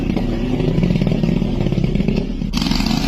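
Motorcycle riding over a bumpy, rough road, a loud continuous engine drone mixed with rattling clatter and jolts, close and steady throughout with a brief shift near the end.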